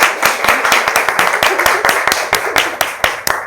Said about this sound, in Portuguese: Uma salva de palmas para todas nós.